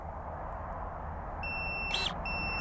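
A Campagnola electric pruning shear gives its battery signal, a steady electronic beep that cuts in, pauses briefly and resumes, over a faint background hum.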